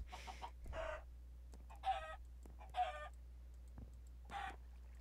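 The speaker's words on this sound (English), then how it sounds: "Hi, chicken." A Minecraft chicken on an Nfinit Skyblock island gives several short, nasal clucks in bursts over a low steady hum, faint and fairly close, with no talk.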